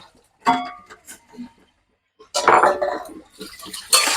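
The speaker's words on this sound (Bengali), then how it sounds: "এখন আমি এখানে ভাজে রাখা গাটি কচুগুলো দিয়ে নেব" Fried taro pieces drop into a pan of cooked spices, onion and garlic, and a spatula scrapes and clatters in bursts. A person talks between the sounds.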